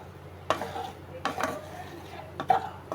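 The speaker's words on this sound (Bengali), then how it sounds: "মশলাটা দেওয়ার পরে আমি কষিয়ে নেব, একটু ভালো করে কষিয়ে নেব।" A spoon or spatula stirs and scrapes spice paste (masala) in a pan, making a few distinct clatters and scrapes against the metal over a quiet background hiss.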